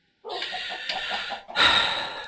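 Chickens cluck and squawk in a Minecraft automated chicken farm, a couple of close, loud bursts of game fowl noise, the second brighter and harsher than the first.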